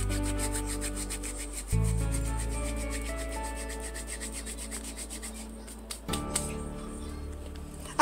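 Olive oil and a teaspoon of oregano being mixed for a tuna salpicón, a steady rubbing, scraping stir close by that runs continuously with a brief pause near the end.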